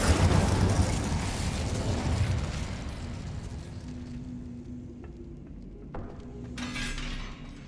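Incendio fire spell in Hogwarts Legacy erupts as a loud roaring burst of flame that slowly dies into a crackling, hissing tail, with a couple of sharp pops and a brief flare near the end.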